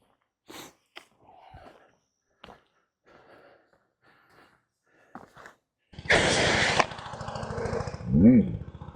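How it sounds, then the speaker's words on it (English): A pressure washer starts spraying a lawn mower deck after quiet handling noises and some talk, giving a loud, close, steady hissing blast for a few seconds. A motor-like sound follows at the end. "we got it hooked up to the pressure washer"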